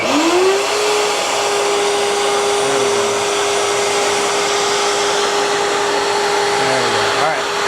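A guitar side bending machine's spindle motor starts up with a rising whine, then runs at a steady pitch, a constant loud whirring drone with a broadband rush lasting throughout.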